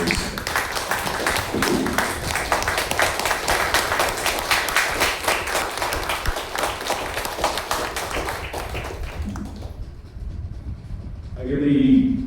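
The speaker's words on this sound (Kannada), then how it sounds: "give yourselves a very big round of applause" Students give themselves a big round of applause: sustained, rapid clapping from a large crowd runs for about nine seconds before fading into quiet, followed by a brief burst of voices.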